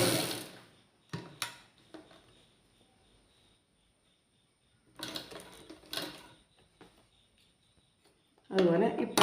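Sewing machine stitching a petticoat, with short bursts of mechanical whirring separated by quiet pauses, close and clear, plus brief clicks.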